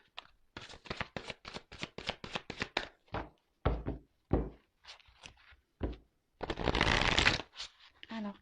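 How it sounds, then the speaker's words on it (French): Tarot cards are shuffled up close in a rapid series of crisp riffling bursts, then a longer riffle near the end. "je prends encore quelques cartes"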